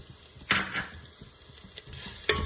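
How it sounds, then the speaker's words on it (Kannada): Chopped onion dropped into hot oil for a potato sagu, giving a steady close sizzle with a few sharper clatters of a stirring spoon against the pan. "ಈಗ ಈರುಳ್ಳಿ ಹಾಕ್ತಾ ಇದ್ದೀನಿ."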